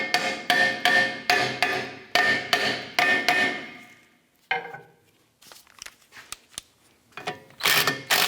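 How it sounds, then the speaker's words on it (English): A hammer strikes a rear brake rotor on a 2004-2008 Acura TL in a run of about eight evenly spaced, ringing metallic blows, followed by scattered lighter knocks and a final burst of tapping, close and loud with no talk. "We're going to try tapping on the rotor itself."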